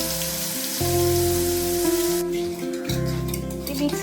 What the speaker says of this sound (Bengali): প্যানে তেল গরম হয়ে গেছে। আমি এখানে দিয়ে দেবো কিছু কালো জিরে আর 2টো শুকনো লঙ্কা।